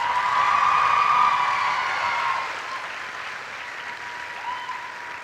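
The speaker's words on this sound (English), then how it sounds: "Let's give them all another round of applause." An audience claps for the candidates at the 2012 Miss Hudson Pageant with dense, steady clapping and a few cheers. The applause is loud at first, then thins and fades after the midpoint.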